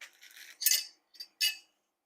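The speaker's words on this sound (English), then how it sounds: "let me give that just a little stir" A spoon clinks and scrapes against a metal pot of hearty mushroom stew, a few quiet, sharp metallic taps in an uneven rhythm with short pauses between them.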